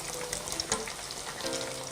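Chicken skin deep frying in hot oil gives a steady, dense crackle and sizzle with small pops, close and continuous throughout.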